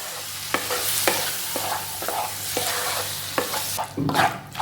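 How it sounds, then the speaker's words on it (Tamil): Steady sizzling of tomatoes frying in a pan for tomato kurma, with repeated scraping strokes of a spoon stirring every half second or so, close by, no talking. "தக்காளி சேர்த்து நல்லா கிளறி விடுங்க."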